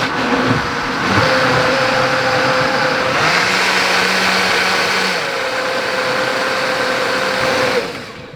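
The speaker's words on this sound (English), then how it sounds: "you can leave this blender going on medium setting for about 2-3 minutes till it's really chopped up" A blender running on medium chops hot sauce ingredients, giving a loud continuous motor whine with shifting pitch for several seconds before cutting off near the end.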